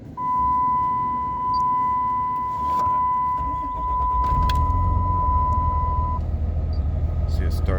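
A 2006 Ram 2500 with a 5.9L Cummins diesel and six-speed, 203,000 miles, cranks over under a steady electronic chime, then catches and settles into a loud, rumbling diesel idle close to the microphone.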